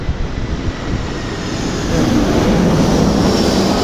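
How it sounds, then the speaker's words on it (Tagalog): An airplane approaching to land roars overhead, a broad rushing engine noise that grows louder and closer over a few seconds. "Lagi na may parating na aeroplano yan."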